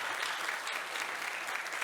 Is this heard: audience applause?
yes